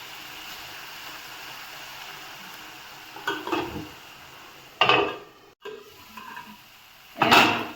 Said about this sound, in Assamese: ঢাকনিখন গুচাই আৰু লাৰি দিলোঁ বুটখিনি সিজিব ধৰিছে